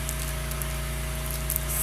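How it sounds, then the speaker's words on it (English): A pressure washer cleans a pool lanai outdoors, giving a constant loud hissing spray with a low steady hum beneath, unbroken and with no voices. "The sun is power washing by the pool"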